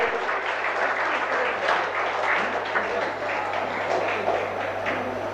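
Audience clapping in a university hall welcoming a guest at a Tamil academic event, sustained even applause with a low steady hum beneath it and some voices mixed in.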